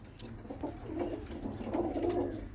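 A female pigeon with black eyes and a tightly closed tail gives soft, low, repeated coos close by, a rolling throaty murmur that swells slightly across the short stretch.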